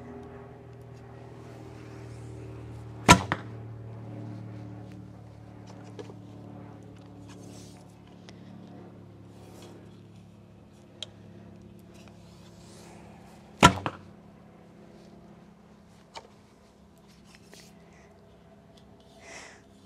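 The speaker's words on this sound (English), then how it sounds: "So the wooden arrows fly very nice too." Wooden arrows loosed from a SiCai take-down bow by AF Archery (35 lb draw, 28 in), two sharp releases and impacts about ten seconds apart, with faint ticks between, outdoors over a low engine-like drone.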